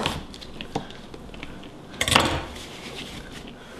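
A kitchen knife dices asparagus pieces on a cutting board at a slow pace, giving a few faint, scattered knife taps with one brief, louder cluster of chopping in the middle.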